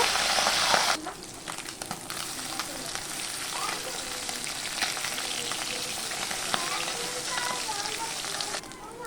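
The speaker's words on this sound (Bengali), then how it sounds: "পুঁটি মাছের কড়া সর্ষের তেল গরম হয়ে গেছে, এবার পুঁটি মাছগুলো দিয়ে দেব।" Puti fish frying in hot mustard oil: a steady, dense crackling sizzle that starts loud with a sharp burst, then settles into continuous spattering with scattered pops. Speech may be faintly present underneath.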